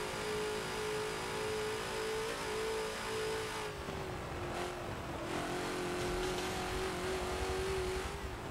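A Ford GT40 race car engine in a Forza racing game at the Nürburgring holds a steady loud drone, dips in pitch as it downshifts midway, then climbs again under continuous tire and wind noise, with no talk.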